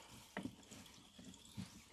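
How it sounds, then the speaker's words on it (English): Water runs through a sanitary sewer line in the crawl space of a house, a faint continuous trickle with a few soft drips and splashes, heard close but quiet. "Water's running."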